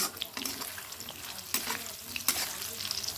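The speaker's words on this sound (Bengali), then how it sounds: "ফুলকপিটা একটু বেসন দিয়ে ভেজে দিচ্ছি পকোড়ার মতন" Cauliflower pakoras coated in gram flour batter fry in hot oil with a continuous close sizzle, broken by a few sharp clinks and scrapes of stirring.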